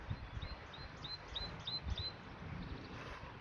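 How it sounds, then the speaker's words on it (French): Small birds chirp in a forest garden in mid-April, a few short bright calls repeating at a steady pace, faint and some distance away over a quiet background with low rumbling. "On entend hein, le calme, les oiseaux."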